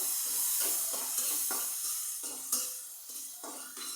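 Onions fry in a pan in a home kitchen, giving a soft, fairly quiet sizzling hiss with brief stirring scrapes and no voices.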